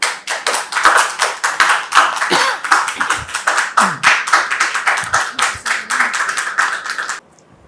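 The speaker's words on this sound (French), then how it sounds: "Recevons-la maintenant avec vos applaudissements." Enthusiastic applause from a crowd, fast overlapping claps continuing steadily for several seconds before cutting off.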